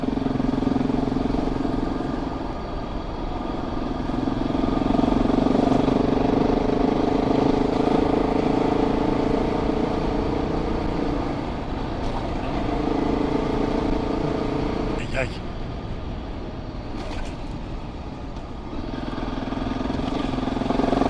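A motorcycle is ridden along a countryside road, its engine droning steadily and close for the whole stretch, with wind rush and a few brief rattles over the surface.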